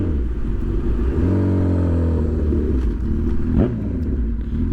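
A Honda CB1000 motorcycle engine revs close by, rising in pitch from a steady rumble to a high rev and then dropping off again.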